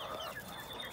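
Denizli chickens in a coop give soft, continuous clucking, close and moderately loud, with no talking over it.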